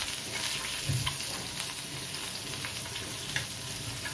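Fish fries in oil in a pan over a low flame, a steady soft sizzle with faint crackles and pops, close and continuous with no talking.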